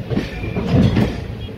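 Pinakini Super Fast Express running on its route from Vijayawada to Chennai Central, a loud steady rumble of wheels and carriages heard from aboard, with a continuous rolling roar.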